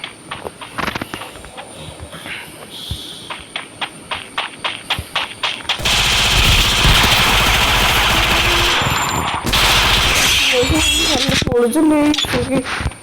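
Rapid gunfire from the video game Free Fire rattles in quick repeated bursts, then a dense, loud, sustained barrage of shots and in-game noise fills the second half.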